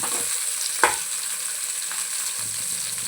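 Sliced onions and green chillies fry in a pan, giving a steady hiss with one sharp utensil tap partway through and a low scrape of stirring near the end.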